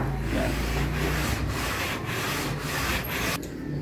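Sheets of 100-grit sandpaper rub back and forth across freshly applied edge banding on a board, a close, continuous dry scraping with a rough, repeating stroke rhythm and no talk.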